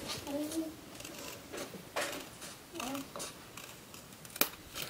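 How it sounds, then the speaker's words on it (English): Scissors snip through a printed paper candy wrapper, trimming off the white part in several quick, separate cuts, close up and fairly quiet, with a brief higher voice heard between cuts. "You can take your scissors and trim off"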